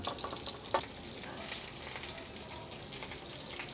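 A roasting pan set with reserved lamb bones sizzles steadily before the lamb goes in, a continuous bright hiss at moderate level with a single clatter early on.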